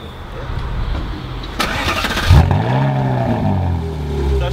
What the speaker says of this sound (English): I'm going to start the car up, let you hear it standard